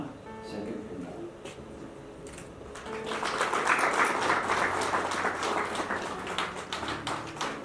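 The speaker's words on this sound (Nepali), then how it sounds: "हामी ताली बजाउन सक्छौँ स्वागत गर्न" Wedding guests inside a church in Patan applaud during a ring ceremony, the clapping swelling after a few seconds of quieter sounds and continuing at moderate distance alongside some voices.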